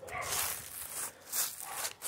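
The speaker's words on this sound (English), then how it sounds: "And the dogs are barking." Dogs barking outdoors, a few short yaps and yelps in quick bursts, faint and somewhat distant over background hiss.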